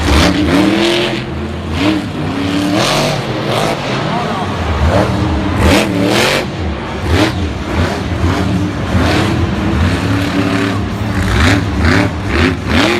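A monster truck at a Monster Jam stadium show in Tampa revs hard, its engine roaring and rising in repeated loud throttle bursts, with an announcer commentating over it.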